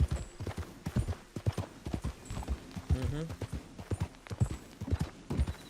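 In a video game, a horse's hooves clip-clop in a quick, steady rhythm close up, with brief murmured talk over the hoofbeats.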